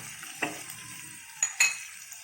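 Baby squid stirred in a hot frying pan give a soft continuous sizzle, broken by a few sharp scrapes and clinks of the utensil against the pan, close and fairly quiet.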